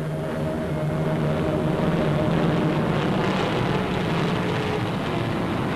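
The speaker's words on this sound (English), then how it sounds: "their plane heads out across the Irish Sea, over England and onto the French coast" Airliner carrying pilgrims in flight over the sea, a loud continuous engine drone with a steady low hum, unbroken throughout.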